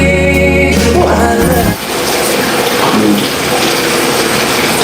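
Water gushing steadily from a faucet, a loud continuous rush that takes over after a short burst of music at the start and runs on without a break.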